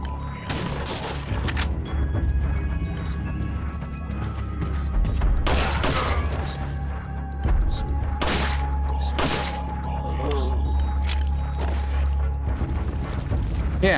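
Gunshots fired at an enemy in the video game Resident Evil 4: several sharp, loud reports spaced a second or two apart over a low, steady rumbling background with mechanical clicks.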